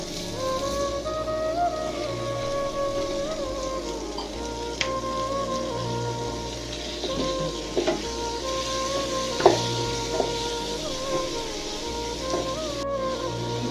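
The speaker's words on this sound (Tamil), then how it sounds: "கொஞ்ச நேரத்துக்கு ஃப்ரை பண்ணணும் டொமேட்டோஸ்லாம் கொஞ்சம் சாஃப்ட் ஆகிற வரைக்கும் அதை ஃப்ரை பண்ணணும்" Golden-browned onions and roughly chopped tomatoes frying in a pan for palak paneer, a continuous soft sizzle with a faint background hum and occasional scrape and stir clicks over several seconds.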